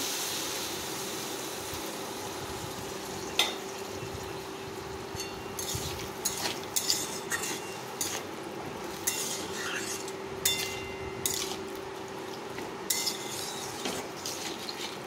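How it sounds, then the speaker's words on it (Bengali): A spoon scrapes and clinks against a cooking pan while potatoes and spices are stirred and browned over a gas flame, with soft sizzling underneath and irregular close metallic taps throughout. "ভালোভাবে আলু আর মশলা সুন্দরভাবে কষাতে থাকবো।"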